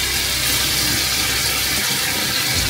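Water poured in a steady, loud, continuous stream into a pot of adobo, with no talking over it.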